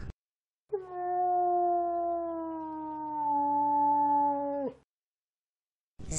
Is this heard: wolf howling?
yes